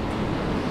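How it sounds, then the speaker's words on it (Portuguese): Sea waves at Praia Brava beach in Santa Catarina make a steady, full rush of surf, mixed with wind noise, close and continuous. "é esse, é o mar da Praia Brava"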